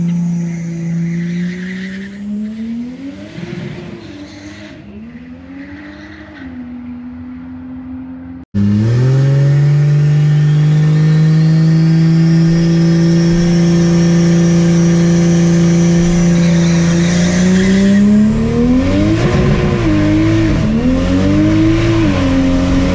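A Nissan Z drag car with an 8.8 axle makes passes at a drag strip, its engine droning loud and steady, then a louder run with rising revs and tire noise sustained close by throughout.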